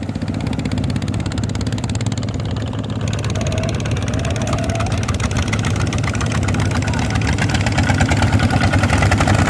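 A brand-new ZT155 walking tractor engine runs steadily while the machine works a wet rice paddy for its first time, a loud, close, continuous chugging drone with a fast, even beat that holds throughout.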